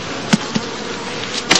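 Honeybees in a heathland skep apiary during heather blossom buzz in a steady, close hum, with a few brief sharper taps or thuds over the drone.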